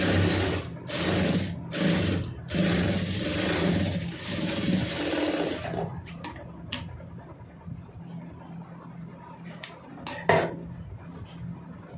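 Sewing machine stitching the curved round neckline of a plain blouse, running in several loud bursts over the first six seconds, then quieter handling clicks and a sharp knock near the end.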